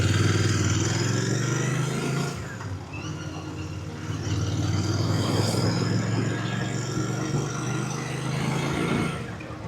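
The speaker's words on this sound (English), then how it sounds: "I'm loving the sound of that exhaust actually." Royal Enfield Bear 650 motorcycle exhaust while riding, a steady low engine drone with a brief drop in revs partway through before pulling again, close and continuous under wind rush.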